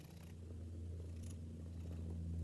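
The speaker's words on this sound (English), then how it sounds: "Just listen to this purring." A soft, low rumbling purr rolls on steadily and close, quiet and continuous with no voices.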